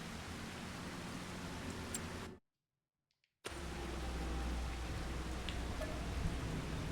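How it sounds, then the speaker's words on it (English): Steady rain hisses in the Farming Simulator 25 video game on an overcast day. It pauses for about a second of silence, then resumes slightly heavier with a low rumble underneath. "It's raining."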